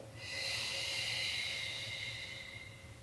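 A long, steady exhale of breath during a Pilates back-mobility exercise, a soft airy hiss that swells and slowly fades over about three seconds, close and alone.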